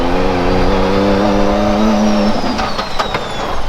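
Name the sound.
four-wheeler off-road vehicle engine racing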